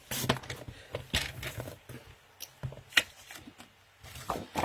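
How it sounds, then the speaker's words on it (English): Cardstock is trimmed down to card size with a paper trimmer: a series of quick, soft slicing and sliding strokes with short pauses between them, close and fairly quiet, with no talking. "So I'm just trimming them all down to the card size I use."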